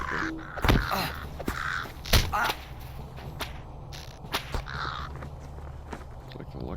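A crow in the game Lord of the Rings Online gives several harsh caws amid sharp whip-like cracks and footsteps, with a voice speaking in between.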